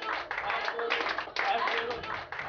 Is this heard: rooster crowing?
no